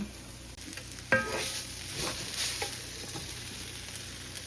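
Carrots, onions and broccoli frying in a pan, a steady close sizzle with occasional stirring scrapes and a sharp clack near the start, no talking.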